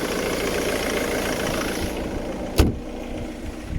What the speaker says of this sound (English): it's a diesel, and you can definitely hear and see that it's nice and shaky, nice and loud.